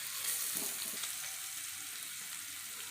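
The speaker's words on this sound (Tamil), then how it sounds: "பூண்டு ஒரு கட்டி துவைச்சி வச்சுருக்குறேங்க. அது நல்லா வறுத்துக்கலாங்க." Crushed garlic fries in oil, giving a faint, even hiss with a few light crackles near the start, quiet and steady throughout.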